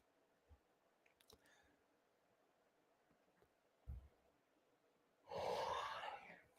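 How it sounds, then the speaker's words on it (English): A single long, breathy yawn sounds close to the microphone after a stretch of quiet rustling and small sounds. "Excuse me for yawning."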